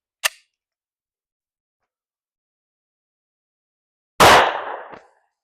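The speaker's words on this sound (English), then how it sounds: "first up to the chronograph, 2 rounds of that Hornady Critical Duty 220 grain polymer filled jacketed hollow point plus P" Two shots from a Glock 30 Gen 3 pistol with a 3.78-inch barrel, firing Hornady Critical Duty 220 grain +P .45 ACP rounds: a sharp, very short crack, then near silence, then a second loud report with a longer ringing decay.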